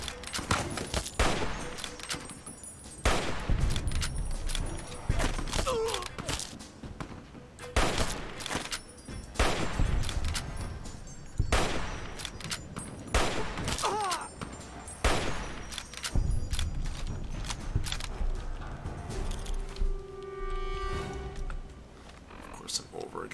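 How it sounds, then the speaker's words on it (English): Rapid bursts of raider gunfire in the video game Fallout, loud, close volleys and sustained automatic fire repeating through the whole stretch with brief gaps, a voice talking over parts of it. "now we got some more raiders firing at me"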